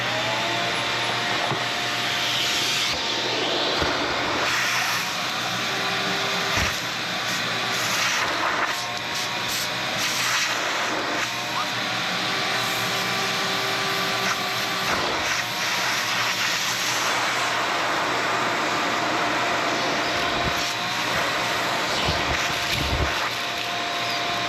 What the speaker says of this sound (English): Let's get the vacuum.